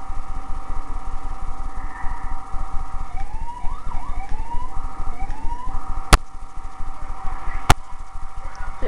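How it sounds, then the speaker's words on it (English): Wailing emergency vehicle siren in the video game GTA 4, rising and falling over a constant engine drone on a freeway, with two sharp clicks near the end. "The police car sounds a little different than the ambulance."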